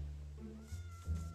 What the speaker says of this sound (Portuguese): Olha um gato preto, mano.